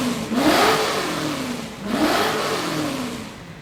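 G2 Pro 2024 electric scooter being switched on and struggling to start, two rising whirring surges like revving, fairly loud and close, with no voices.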